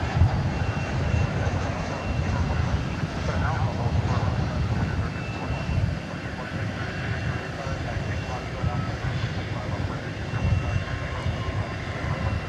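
An American Airlines Boeing 737-800 arriving from Mexico City at Dallas Fort Worth airport at night, a steady broadband engine roar sustained throughout with a low rumble, under faint background chatter.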